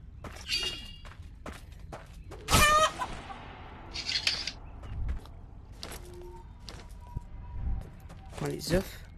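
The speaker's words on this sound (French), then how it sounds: "Ça prend des poules." Chickens clucking in the video game Blade & Sorcery, with scattered short clucks and squawks alongside thuds and footsteps, while a person talks.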